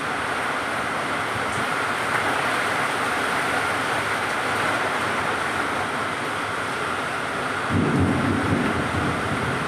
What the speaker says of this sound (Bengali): সকাল সকাল বাইরে প্রচণ্ড ঝড় বৃষ্টি হচ্ছে।